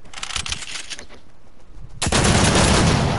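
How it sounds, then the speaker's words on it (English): A pistol in the Fortnite video game fires a fast string of sharp cracking shots, followed by a louder burst of dense gunfire close up, with no talk over it. "That's like the first pistol to shoot real fast."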